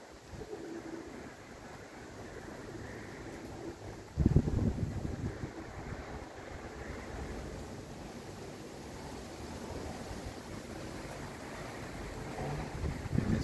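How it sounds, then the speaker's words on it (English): Gusty wind buffets the microphone outdoors on a hot, windy day, a steady low rumble of moderate loudness with a stronger gust around the middle and another swelling near the end. "Very windy day today."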